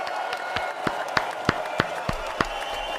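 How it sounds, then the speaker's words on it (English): Hand claps ring out in a steady rhythm over a busy room murmur, a modest round of applause for a guest, the individual claps distinct and moderately close. "Let's get him another hand clap. One more time."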